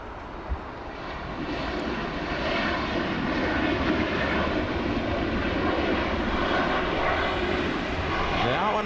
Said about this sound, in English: We have Southwest 3736 coming in to land.